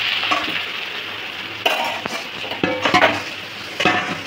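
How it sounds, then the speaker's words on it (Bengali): Fish roe fries with bitter gourd, green chillies and turmeric in a wok, a close sizzle punctuated by repeated metal spatula scrapes and clinks against the pan. "এবার কড়ার মধ্যে ডিমটা দিয়ে দিচ্ছি,"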